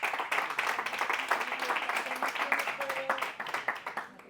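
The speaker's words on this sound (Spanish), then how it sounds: "Un aplauso." An audience at a motivational talk applauds, a busy, fairly close patter of many hands that holds steady for several seconds, with some voices mixed in.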